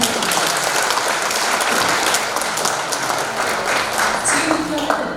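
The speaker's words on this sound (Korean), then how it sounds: "김영선 대사님께 다시 한번 힘찬 박수를 부탁드립니다." Sustained, dense applause from an audience at an economic association lecture, steady and loud across the whole stretch with a murmur of voices mixed in.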